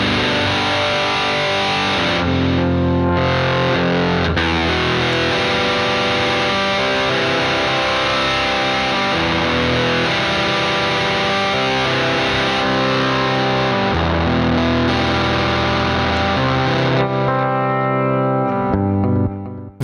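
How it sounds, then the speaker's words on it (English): Distorted electric guitar chugging through the Nembrini Jazz Chorus amplifier app on iOS with its distortion pedal engaged, a dense, loud, sustained riff with chorus and echo coloring, playing continuously alone before stopping near the end. "you've got that distortion in here that you can chug up as well"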